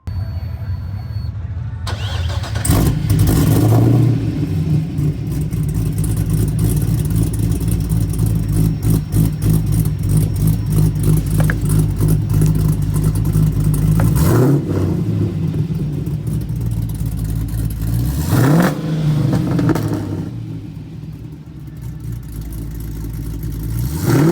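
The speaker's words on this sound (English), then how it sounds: "if you start the car for us before we leave, we got to hear the exhaust on it" A 1969 Chevrolet Camaro at a street rod show cranks over, catches and settles into a loud, steady idle, punctuated by three sharp throttle blips that swell and fall in the exhaust, heard up close with no talking.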